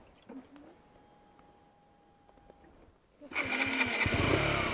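A KTM 125 Duke motorcycle engine cranks and fires up partway through, settling into a loud, steady running roar after a quiet stretch with faint background sounds.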